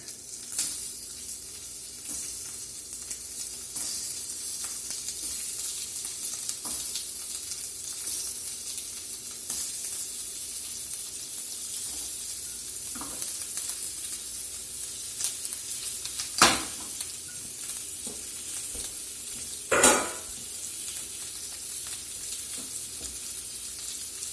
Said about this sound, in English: Get these shrimps. I'll start laying them out here to sear.